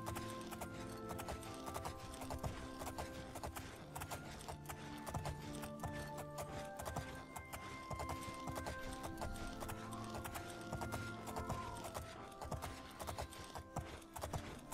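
A horse in the video game The Elder Scrolls IV: Oblivion clip-clops along at a steady rhythmic pace, hoofbeats repeating throughout over layered game music and ambience, with no speech.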